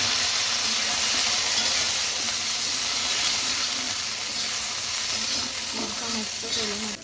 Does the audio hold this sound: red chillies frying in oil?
yes